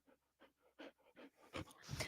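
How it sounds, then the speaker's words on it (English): Dogs pant in quick, breathy bursts and let out a few soft whimpers, close to the microphone and fairly quiet, growing busier and louder toward the end with no one talking. "Now my dogs are stuck and the cameras might be knocked over."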